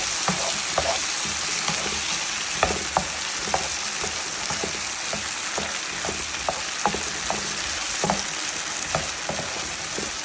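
Food sizzles steadily in a hot pan while a utensil scrapes and stirs it in repeated short strokes, up close and alone with no voices.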